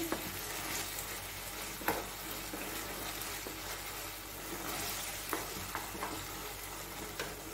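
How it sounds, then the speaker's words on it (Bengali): Cornflour slurry being stirred into a hot cooking pan, with a soft, steady sizzle of frying and occasional light scrapes and taps of the utensil, quiet and close. "কর্নফ্লাওয়ারের গোলাটা দিয়ে দিচ্ছি। ভালো করে নেড়ে নিচ্ছি।"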